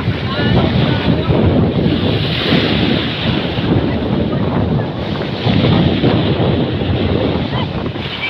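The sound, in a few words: strong ocean waves and wind at night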